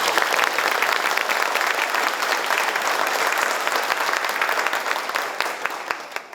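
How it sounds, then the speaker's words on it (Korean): Sustained applause from an audience at a retirement ceremony for a provincial vice governor, dense even clapping that holds steady and loud before easing slightly at the end. "큰 박수 부탁드립니다."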